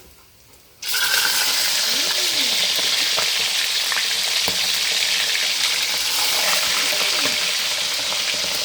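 Fish dropped into hot oil for deep frying breaks into a loud, steady, crackling sizzle after a quiet moment, with a few faint utensil clinks over the continuous frying.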